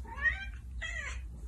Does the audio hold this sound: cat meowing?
yes